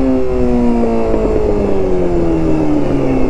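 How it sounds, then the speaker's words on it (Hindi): A super sports motorcycle engine drones loudly and steadily on the highway, its pitch sliding gradually lower as it runs. "Because this is a super sports bike."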